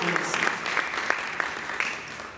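Brief audience applause at a talk on design and evangelization, scattered clapping with a few sharp individual claps standing out, fading gently toward the end.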